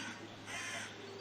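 A chicken in Minecraft TerraFirmaCraft gives a short, harsh, squawking cluck that stands out clearly over a soft, steady background hiss.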